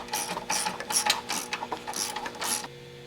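A ratchet wrench loosening belt bolts on a 2007 Mercedes 5-cylinder diesel engine during water pump replacement, giving several quick bursts of close, sharp clicking in an uneven rhythm before stopping.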